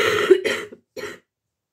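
A person with a lingering cough gives two harsh, close coughs, a longer burst then a shorter one after a brief pause, with silence afterwards.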